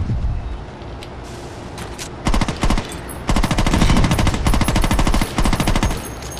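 Loud automatic gunfire in the video game Saints Row 2, with a few single shots followed by long, rapid bursts at close range.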